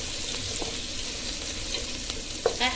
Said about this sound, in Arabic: هسه دا يحمس البصل